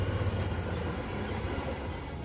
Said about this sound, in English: And yet another train passing by.